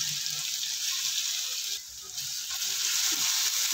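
A ground paste of chili, garlic and cumin added to mustard seed tempering over low heat sizzles steadily, with a brief dip partway through; close and even, with no talking.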